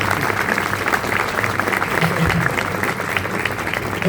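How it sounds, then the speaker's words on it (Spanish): Steady, dense applause from a lecture audience at a book fair talk in Argentina, loud and continuous throughout with no voices over it. "Un aplauso a Philipp Bagus."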